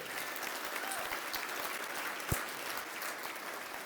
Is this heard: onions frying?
no